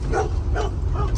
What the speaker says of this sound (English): That's a dog, not mine.